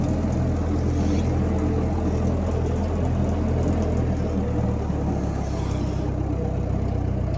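An old Massey Ferguson tractor engine runs steadily and loudly close by, a continuous low rumble that barely varies, with no talk over it.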